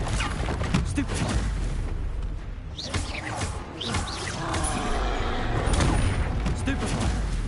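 Spell combat from the Hogwarts Legacy video game, with repeated magical blasts and bursty impacts crackling over a dense, busy game soundtrack, loud and continuous throughout.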